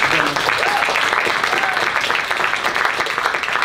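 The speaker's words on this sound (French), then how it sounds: "on les applaudit toutes" An audience applauds teenage performers after their first theatre show, with dense, steady clapping filling the whole stretch and a murmur of voices underneath.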